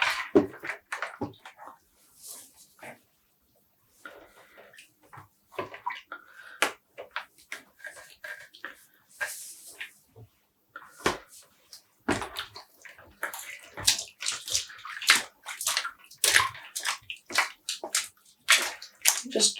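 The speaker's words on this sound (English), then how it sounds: "Just gently squeezing it about, pushing it about in the water." Yarn is squeezed and pushed about in a tub of dye water, giving soft sloshes, drips and wet squelches that come in irregular bursts, quiet at first and growing busier and louder toward the end.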